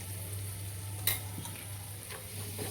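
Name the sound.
spices roasting in a pan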